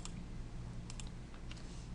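Computer keyboard typing comes as a few scattered, faint key clicks in small bursts over a low background hum, with no talk.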